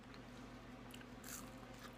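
Crunchy chicharrones snack bitten and chewed close to the mic, a soft crackle with one sharper crunch midway over a low hum, faint and brief, no talking.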